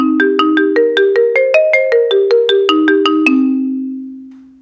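Marimba struck with very hard mallets: a quick run of about fifteen bright, sharply articulated notes stepping up and back down, ending on a held low note that rings out alone and fades.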